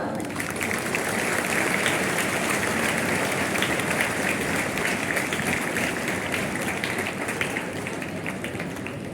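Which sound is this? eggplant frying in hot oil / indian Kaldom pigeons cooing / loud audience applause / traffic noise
loud audience applause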